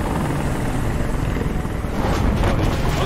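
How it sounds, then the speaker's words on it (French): Helicopter in Detroit: Become Human, a loud, close rotor roar with a dense, steady thrum that grows slightly stronger toward the end and plays alone, with no talking. "Hélicoptère de merde."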